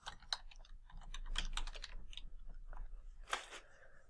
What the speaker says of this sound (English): click on send message and then type in Builderall